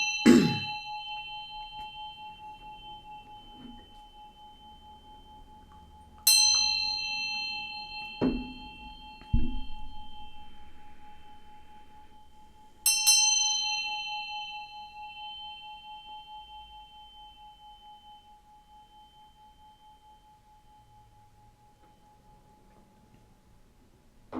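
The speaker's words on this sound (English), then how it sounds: "I'm going to ring this bell to bring in some good vibes" A small bell is struck three times, each strike ringing clearly with a bright tone that decays slowly, spaced several seconds apart, with a few faint knocks and handling sounds in between and no talk.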